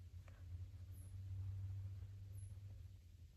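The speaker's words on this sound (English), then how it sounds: "There's like maybe some car sounds in the distance" Faint car engine rumble drifts from far away through very quiet winter woods in the Hoosier National Forest, a low steady drone swelling and easing with no other sounds nearby.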